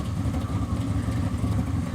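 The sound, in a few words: classic car engine idling at car show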